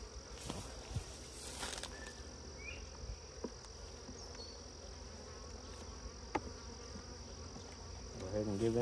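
Honey bees buzz faintly and steadily around a hive fitted with a gallon feeder, with a few light knocks and a brief close fly-by drone.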